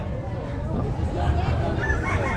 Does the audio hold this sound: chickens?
yes